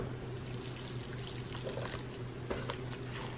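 Warm water poured into corn masa mixed with ash for corundas, a steady trickling splash with a few brighter spatters, close and moderately loud.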